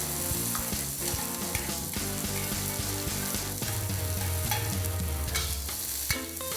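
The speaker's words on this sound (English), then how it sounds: "When the oil is hot, fry the garlic," Garlic, spring onions and sausages fry in hot oil for a macaroni stir fry, giving a steady close sizzle with stirring clatter throughout and no voices.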